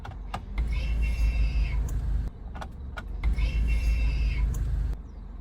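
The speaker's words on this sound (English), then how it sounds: "That's the parking brake releasing." A 2017 Range Rover Evoque's electric parking brake gives two separate motorized whirring releases, each lasting about a second and a half, close and steady, with a brief pause between them.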